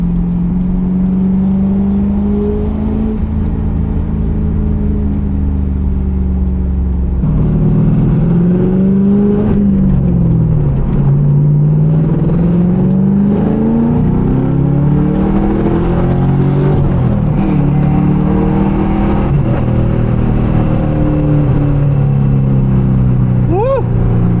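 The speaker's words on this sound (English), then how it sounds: "Forgot how much noise those T-tops make." A 90s Pontiac Trans Am WS6 muscle car on the move, its engine droning steadily close up and rising and falling as it revs, with a constant rushing wind noise from the T-tops underneath.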